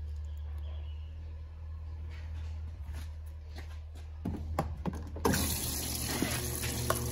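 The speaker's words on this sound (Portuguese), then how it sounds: "Enxaguar essa tampa." Tap water runs into a sink as a detergent bottle cap is rinsed by a washing machine, a soft steady flow with clatters and handling knocks, swelling louder and brighter near the end.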